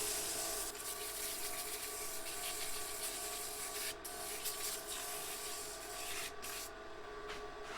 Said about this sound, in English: You can just give this a quick sanding.